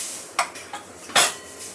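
Mustard and cumin seeds hitting hot oil in a pan give a few sharp crackling pops and sizzling bursts, one louder spatter near the end, close and alone with no talking.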